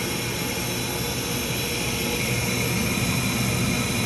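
A hot industrial HVAC unit motor runs right after starting, giving a steady, dense whirring drone with faint tonal whine and no breaks.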